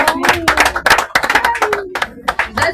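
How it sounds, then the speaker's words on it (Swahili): A church congregation at a Sunday service claps loudly in a dense, fast burst of hands that carries through the whole moment, with some voices mixed in among the applause. "Pigia maiki makofi."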